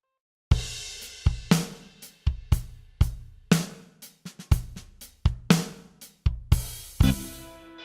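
A crisp, punchy drum beat with sharp separate hits and quick decays, tighter and drier than a washy kit, playing a steady groove alone.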